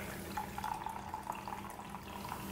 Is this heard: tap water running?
yes